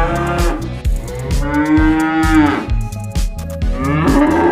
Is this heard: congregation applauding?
no